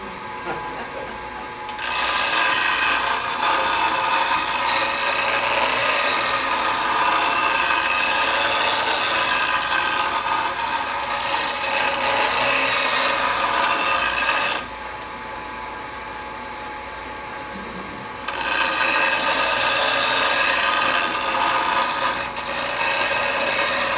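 A woodturning tool's nose is pressed against a grinder, giving a loud hissing grind in long passes that stop and restart, with the wheel humming between passes.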